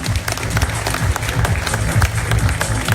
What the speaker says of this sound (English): a big round of applause for PR Director of Golden Boy Promotions, Ramiro Gonzalez.